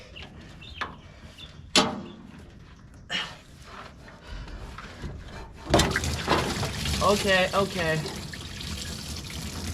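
Coolant drains from the radiator of a 1968 Chevy C10 into a pan: after some clanks and knocks, liquid starts pouring and splashing steadily, close and fairly loud, with a short spoken word over it.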